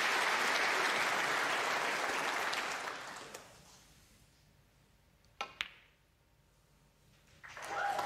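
A snooker crowd at the UK Championship applauds after a clearance. Dense, loud applause fades over a few seconds, a couple of sharp claps stand out in the quieter part, and clapping rises again at the end.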